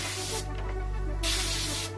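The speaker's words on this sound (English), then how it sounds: "airbrush, spray paint" An airbrush sprays paint onto a hoodie with a steady, close hiss that surges louder in two short bursts.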